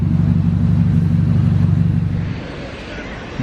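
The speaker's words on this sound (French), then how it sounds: "Il y a une Ferrari Roma qui arrive devant le Casino." A Ferrari Roma pulling up in front of the Casino, its engine a loud, close low rumble that holds steady, then drops away as the car settles.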